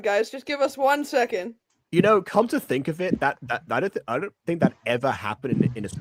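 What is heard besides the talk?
None of the usual background noises is heard.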